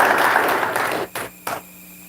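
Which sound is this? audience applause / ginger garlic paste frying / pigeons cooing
audience applause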